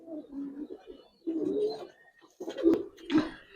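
Giribaz pigeons coo in several soft, throaty bursts, some overlapping, close by and free of speech.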